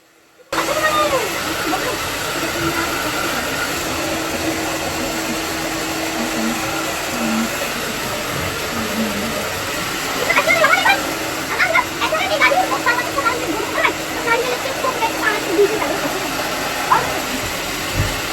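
A hair dryer drying hair, a loud steady blowing hiss that starts abruptly and runs continuously, with someone talking over it partway through.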